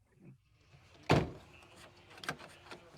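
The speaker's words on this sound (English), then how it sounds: "click, just shut the door." An interior door of a 2003 Chevy Silverado pickup shuts with one sharp, loud thunk, preceded by a faint click and followed by a few softer knocks and rattles nearby.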